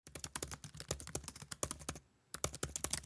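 Rapid clattering keystrokes on a computer keyboard as code is typed, a dense irregular run of clicks with a brief pause near the end before typing resumes; close and alone, with no talk.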